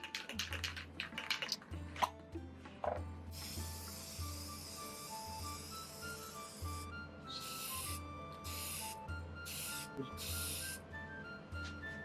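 Spray paint hissing in repeated short and longer bursts onto a wooden dice tray being coated black, with quiet rubbing and handling noises between sprays.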